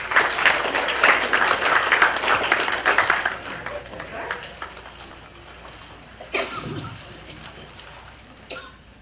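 An audience applauds to welcome a speaker at a Medicare 101 talk, loud sustained clapping for about four seconds that then fades into room murmur and a few scattered sounds.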